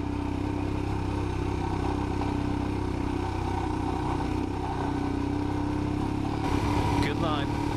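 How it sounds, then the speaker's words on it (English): An off-road motorcycle labours up a hill in the Dorset countryside, its engine droning steadily and close, with a burst of rattling clatter near the end and speech mixed in. "this bike's going to get up that hill."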